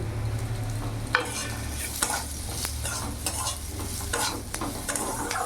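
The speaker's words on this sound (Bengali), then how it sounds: "ভালো করে নাড়াচাড়া করে নিয়েছি" Fried potatoes with ground cumin being stirred in a pan, a steady close sizzle broken by scraping and clacking of the spoon, with no voices.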